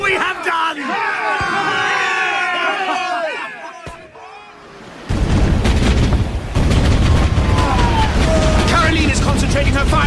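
Naval cannon fire booms during a radio drama sea battle aboard a sailing warship, heavy blasts and rumbling gunfire following shouted voices, with crew talk and clamor throughout.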